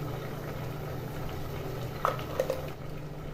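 Bottle gourd pieces simmering in a pot for a mung dal dish, a steady bubbling boil with a low hum under it, then a few brief stirring clinks near the end; no talking.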